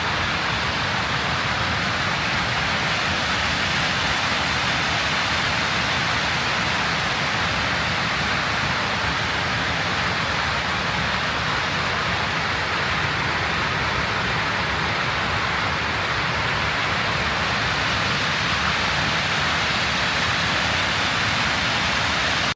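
Kirkjufellsfoss waterfall in Iceland roars up close, a dense, steady broadband rush of falling water that holds loud and unchanging throughout, with no voices.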